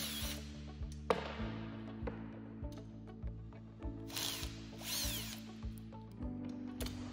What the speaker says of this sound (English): So what you can use is an impact wrench to remove the bolts.